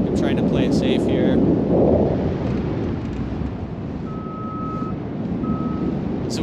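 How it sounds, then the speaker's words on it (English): A repeated electronic alarm beeps at a steady tone in two evenly spaced bursts, heard from a hang glider harness in flight over constant heavy wind rush, with a faint voice near the start. "So we hear that beeping again"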